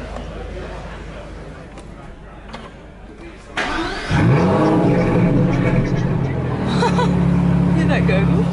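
A new Aston Martin Vantage sports car with a chopped carbon fibre option fires up after background chatter, its engine catching with a sharp burst and then settling into a loud, close, rumbling idle with a slight rev.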